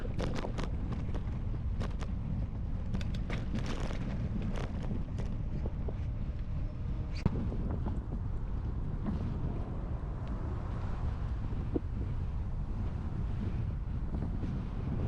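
Steady wind roars across the microphone while cycling the Ara Canal and Cheongna Lake Park bike route, a loud, unbroken buffeting rumble throughout with no talk.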